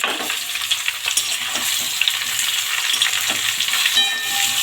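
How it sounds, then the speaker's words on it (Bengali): Ridge gourd frying and being stirred in a pan, a steady broadband sizzle with scattered soft scraping taps, close and continuous with no voices. "ভাজা হয়ে গেল আমরা ঝিঙে গুঁড়ো দিয়ে ভাজবে"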